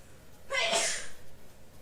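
A single sharp sneeze bursts out midway at close range, followed by a few soft breaths in an otherwise quiet room.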